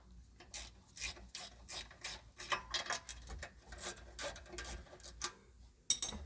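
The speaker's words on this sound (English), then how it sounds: "where'd my wrench go? I need to loosen" A ratcheting wrench loosens bolts on a steering stabilizer being installed on a 2017 Jeep Wrangler. Close, crisp ratchet clicks come in quick irregular bursts over several seconds, with one sharper clack near the end and no talking.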